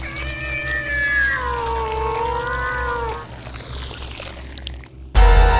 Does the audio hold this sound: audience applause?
no